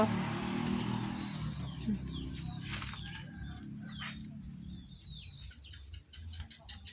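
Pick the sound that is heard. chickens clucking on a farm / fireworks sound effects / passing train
chickens clucking on a farm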